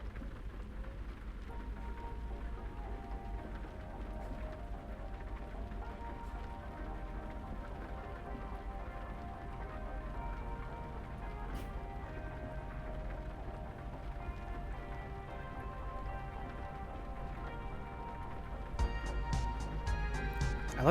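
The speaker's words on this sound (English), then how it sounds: "I like that you can even hear the rain hitting like the top of your cabin and the windshield." Rain patters steadily on a truck cabin roof and windshield in American Truck Simulator, a constant soft hiss over low engine rumble, with a brief louder burst near the end.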